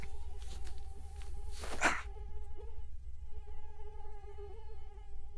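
Mosquitoes whine in a thin, steady drone close to the ear throughout, with one brief noisy rustle early on.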